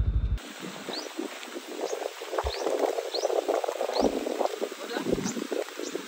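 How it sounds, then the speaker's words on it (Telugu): Light drizzle falls during a car camping trip near Hyderabad, a soft, steady patter of drops spread evenly across the clip, with a few faint low thumps mixed in. "వర్షము ఇప్పుడే చినుకులు పడుతున్నాయి, స్టార్ట్ అయింది"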